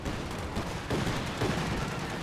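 Anti-aircraft half-track firing in Company of Heroes 2, a continuous rattling stream of rapid shots with slight pulses in intensity over a busy battlefield din.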